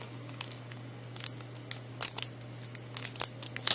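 A rhinestone nail patch sticker, strongly adhesive, being peeled off: a series of small, close crinkling and tearing crackles in irregular bursts over a steady low hum.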